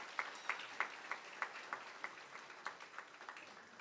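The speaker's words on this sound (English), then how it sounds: "So come on, give a round of applause." Faint, fairly sparse applause from a small audience at a pet graduation ceremony, with individual claps repeating at a steady rhythm.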